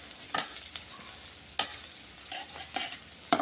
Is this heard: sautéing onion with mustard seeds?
yes